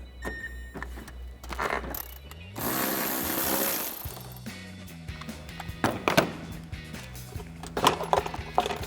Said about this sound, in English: we can take our 12mm socket to get our bolt out